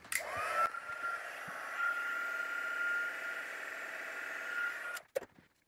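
A craft heat tool blows over a paper card project, starting with a click and a rising whine, then holding a steady close whirring hiss for several seconds before cutting off with a click.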